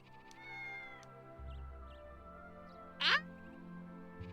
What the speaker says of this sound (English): That one meowed.